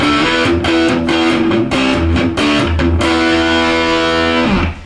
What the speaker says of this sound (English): we're going to put the distortion on our amp